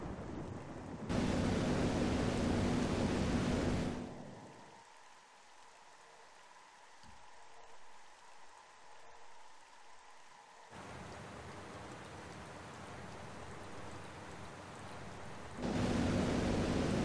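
Rain in the video game Metroid Prime comes as a loud, dense hiss that cuts out for several seconds in the middle, returns more softly, then swells loud again at the end.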